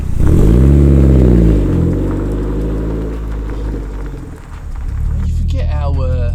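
A Ford Sierra Cosworth Rouse Sport 304R engine starts up and revs loudly up close, the pitch sweeping up and settling into a rough idle that dips and swells again, with voices talking alongside.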